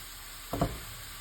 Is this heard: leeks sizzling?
yes